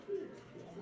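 A white grizzle female pigeon gives a single soft, low coo, faint and brief at close range.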